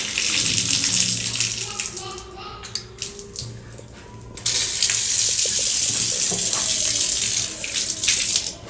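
Water runs steadily from a newly installed tap into a sink, a continuous broadband rush that drops briefly and then resumes strongly, with someone speaking quietly beneath it.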